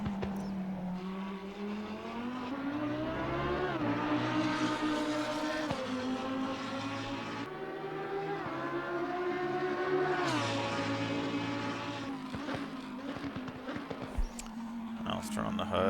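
A race car engine in Assetto Corsa Competizione at Spa-Francorchamps, in the rain, whines steadily, climbing and dropping in pitch through gear changes, with occasional speech over it.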